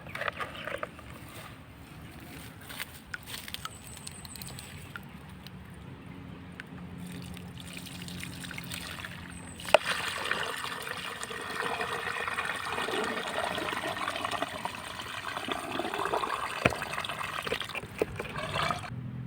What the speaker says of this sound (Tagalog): Tapos buhos natin sa butas